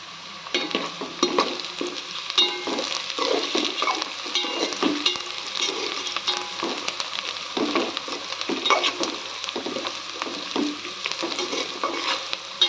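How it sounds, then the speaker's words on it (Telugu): Sliced onions frying and sizzling in a pan for egg biryani, with frequent scraping stirs of a spatula over a steady crackling hiss, close and without any talk. "ఉల్లిపాయలు బాగా మగ్గే వరకు ఫ్రై చేసుకోవాలండి."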